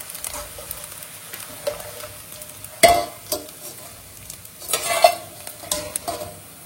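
Sun-dried rice crisps (soru vathal) frying in hot oil, with a steady soft sizzle broken by scraping stirs and a few sharp spoon clinks against the pan, close and fairly quiet, no talking.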